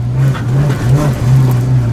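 Engine of a 1993 Honda Civic revs up under acceleration from inside the car, a loud steady drone that rises and dips in pitch across the stretch, with no talk over it.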